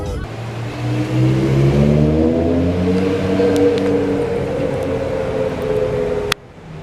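A Fisker Karma drives past, its rising then falling whirring engine and tire note sweeping in loud and close, fading over several seconds before a sharp click cuts it short, with no talk over it.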